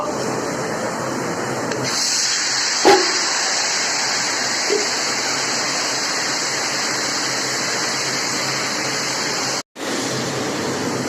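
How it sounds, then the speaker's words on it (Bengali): Spices for paneer butter masala (cardamom, sugar and cloves) frying with blended tomato, giving a loud, steady, close sizzling hiss that runs throughout, with one brief dropout near the end and no talk. "এই যে পনির বাটার মশলার ফোড়ন দিলাম এলাচ চিনি লং আর মিক্সচার করা টমেটো"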